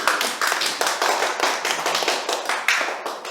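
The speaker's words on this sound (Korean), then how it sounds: "하나님께 영광의 박수를 드립니다" A small church congregation clapping together in rhythm, sharp, steady claps in a regular beat, close and fairly loud with no speech.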